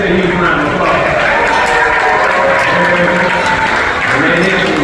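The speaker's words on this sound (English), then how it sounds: "Let's give it a huge round of applause." Crowd applause at the Peabody hotel in Memphis, Tennessee, after the famous duck march, a loud dense clapping wash with voices and cheering mixed throughout the short stretch.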